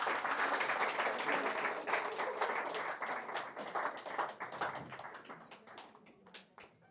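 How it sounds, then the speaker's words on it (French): An audience breaks into applause that starts full and dense, then thins into scattered individual claps and fades out over several seconds. "On peut l'applaudir quand même."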